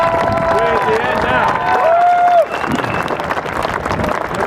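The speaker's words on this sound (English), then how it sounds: "Let's give him another round of applause." An audience at a memorial commemoration gives a round of applause with some cheering, a broad crowd sound under overlapping voices and a raised shout, continuing steadily at moderate loudness.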